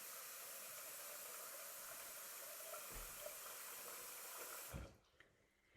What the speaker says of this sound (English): To wash the lentil, just you need to put some cold water in there.